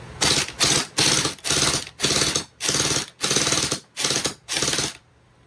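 Gel blaster with a tracer magazine and tracer suppressor fires in eight fast, loud bursts of rapid mechanical rattling, each lasting about half a second and separated by short gaps, ending in quiet.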